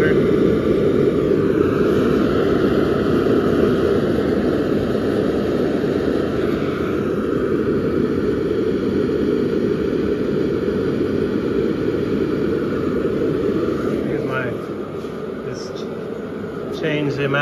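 Propane forge burner roaring steadily while heat treating 52100 bearing steel, a continuous broad rushing roar that holds level throughout and eases slightly near the end, with someone talking over it.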